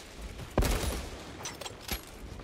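Gunfire in the Warhammer 40,000: Space Marine 2 campaign, with a sharp burst of shots followed by a few quieter, scattered cracks over a low, fairly faint background.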